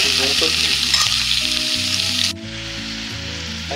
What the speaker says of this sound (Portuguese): Agora eu vou colocar aqui a nossa linguiça. Essa linguiça é aquela linguiça perdigão, churrasco, ok? Agora eu vou deixar fritar um pouco junto aqui.